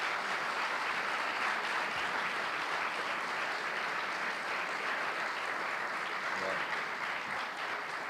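An audience in a conference hall claps for a speaker at a political talk. The applause is dense and steady and lasts the whole time, with no break or fade.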